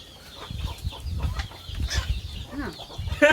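Chickens clucking in a rural Isan setting, several short irregular clucks and chirps scattered across a few seconds at moderate distance, with low rustling and background activity underneath.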